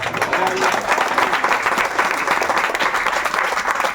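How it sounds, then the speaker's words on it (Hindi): Steady, continuous clapping at an outdoor election campaign event in Mumbra, sounding like a larger crowd applauding rather than just two small girls, dense and unbroken throughout. "वो देखो ना, 2 बच्चियां तालियां बजा रही है"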